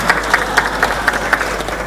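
An audience at a leadership conference panel session claps for the president, a dense, loud round of applause with a faintly pulsing rhythm, with no voices over it.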